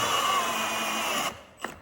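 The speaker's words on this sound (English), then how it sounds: "I stopped, I throttled the drill when I got really close here" Power drill driving a countersink screw into wood: a close, loud, steady whine that stops abruptly, followed by a brief faint squeak.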